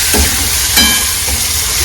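Turmeric and spices crackle and sizzle in hot oil for a tomato dish, a constant frying hiss with a few sharper pops, close and fairly loud, no voices.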